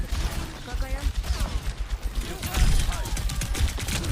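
Gunfire in a first-person shooter game, with rapid bursts of shots crackling over a dense, busy mix while players talk throughout.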